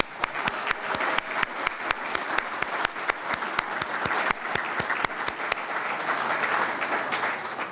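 Guests at a college presidents' breakfast give a round of applause, with many sharp individual claps standing out over a dense clapping wash, close and lively throughout.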